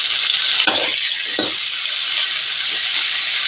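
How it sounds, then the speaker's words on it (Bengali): Green chillies fry in hot oil with a steady, close sizzling hiss, broken by a couple of soft stirring scrapes. "দেখো লঙ্কাও ভেজে নিচ্ছে একটু।"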